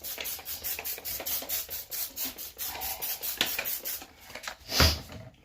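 Rhythmic brisk scrubbing around a toilet area with Simple Green cleaner, close rasping strokes in quick succession, ending with a sharp knock.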